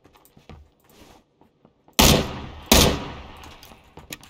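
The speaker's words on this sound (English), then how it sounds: "Are you shooting someone?" Two loud, sharp gunshots in PUBG ring out close together, each with a decaying tail, after quiet shuffling and footsteps.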